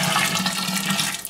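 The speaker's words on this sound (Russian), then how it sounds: "Поэтому я выливаю сюда чайник кипятка" Boiling water from a kettle is poured into a wheat beer mash, a steady loud rushing splash that fills the whole moment.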